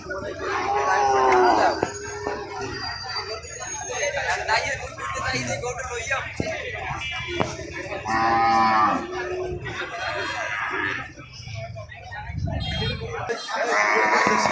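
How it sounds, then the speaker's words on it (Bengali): Cattle lowing in a busy cattle market, several drawn-out moos rising over a dense crowd of voices and shouting, with someone talking close by throughout. "কোন দিকে যাবেন, উত্তর দক্ষিণ পশ্চিম চতুর্দিকেই গরু আর গরু।"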